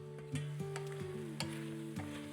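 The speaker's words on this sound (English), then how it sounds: "stirring these vegetables. They are getting soft enough" Soft garden vegetables are stirred as they fry in a pan, with a steady quiet sizzle and a few sharp scrapes and taps from the utensil, close but faint and with no talking.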